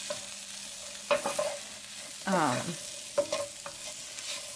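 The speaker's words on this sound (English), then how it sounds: "So I kind of just threw everything here in the pan at the end. I get to warm up the sweet potatoes and the soup." Sweet potatoes and soup warming together in a well-used, burnt-bottomed pan, sizzling softly while a utensil scrapes and stirs in several short bursts, close up and with no talking.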